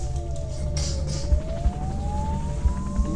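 A police siren glides slowly down and back up in pitch, moderately loud, over a thumping low beat with occasional knocks.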